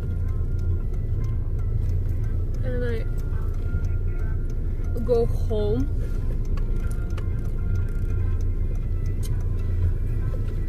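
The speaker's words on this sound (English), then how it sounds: "And I am back in the car" Steady low rumble of a car cabin while driving home after a dance competition in Fontanafredda, a continuous road drone with faint ticking, as a voice talks over it.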